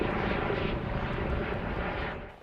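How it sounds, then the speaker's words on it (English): A medical helicopter's rotor chop and engine roar fill the air steadily and loudly, drawing near as it arrives at an emergency landing zone in Ephrata, fading slightly at the end with no talking heard. "It's one that became more recognizable as the helicopter got closer."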